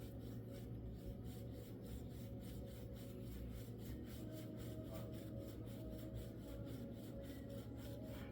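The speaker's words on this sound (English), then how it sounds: "Now we're going to tighten it down." Small screws tightened on the guide assembly of a Scaleauto Home Series slot car, a faint, close, rhythmic rubbing and ratcheting scrape repeating steadily over a low background hum.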